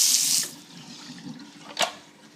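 Running tap water hisses into a sink as apricots are rinsed for jam, stopping after half a second, followed by quiet handling and a short splash near the end.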